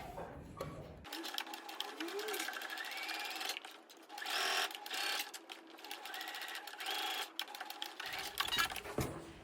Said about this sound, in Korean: 아랫면을 제외한 위 양옆 3면을 약 1cm 간격으로 쭉 재봉해